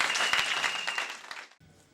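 Church congregation applause during a service in Rotterdam, a dense burst of clapping that fades out over about a second and a half, leaving faint room sound.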